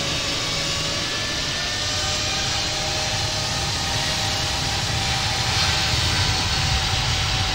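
Swiss jet airliner taking off in the Infinite Flight game at Geneva Airport, runway 22: a steady, broad engine roar with a faint high whine holds at even loudness throughout, with no talk.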